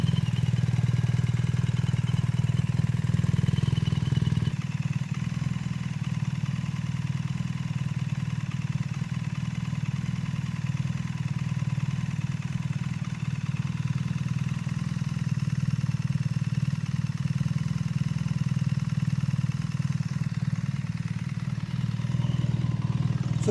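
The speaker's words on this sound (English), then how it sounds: "So the engine's now up to about 70 degrees. Everything's looking all right, it's sounding good." A BMW R1300 GS motorcycle fitted with an Akrapovic titanium de-cat header full exhaust idles steadily and close by, a deep, even burble with a slight shift in tone after a few seconds, no talking over it.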